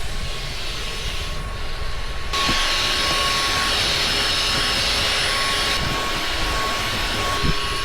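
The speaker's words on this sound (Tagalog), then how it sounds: "Dala ako ditong vacuum." A handheld vacuum cleaner cleaning the inside of a car, a loud steady whine that runs the whole time, with the pitch and airflow shifting as the nozzle moves over the interior, and no talking.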